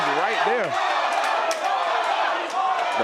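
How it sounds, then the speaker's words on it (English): A crowd at a combat night fight in Fort Lauderdale keeps up a loud, steady roar of mixed chanting and shouting. Voices rise and fall throughout while a commentator talks over it. "The mixed chants of the crowd between Aldo and Danny."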